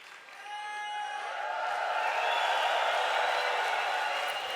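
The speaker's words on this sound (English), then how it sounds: "Give these guys a round of applause" A large audience at a Vemma sales convention in Europe breaks into sustained applause and cheering, a broad wash of many hands and voices swelling gradually and holding steady, heard from within a big hall.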